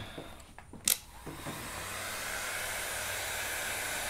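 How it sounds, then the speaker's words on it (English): Heat gun running at maximum setting while stripping old wrap from a vintage Ludwig/Rogers drum shell, a brief click and clatter at start, then a loud, steady blowing roar close by. "take the heat gun."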